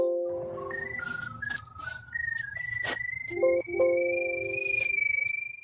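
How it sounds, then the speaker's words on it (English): A sewer line locator tracking a sewer camera: electronic tones stepping up and down in pitch, then a steady rising whine with pulsing beeps, all over a constant low buzzing hum. "The locator sounds like this."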